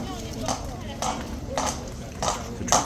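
Horse hooves clip-clopping on hard pavement at a slow walk, evenly spaced knocks about every half second, moderately close, under steady background crowd noise.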